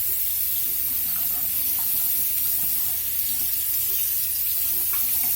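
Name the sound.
tap water rinsing a makeup brush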